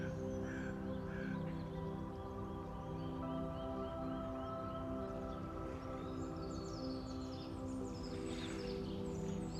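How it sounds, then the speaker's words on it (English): Crows caw repeatedly in rough, scattered calls as birds pass over a calm winter lakeside, with a faint steady background hum underneath and no voices. "Birds passing by."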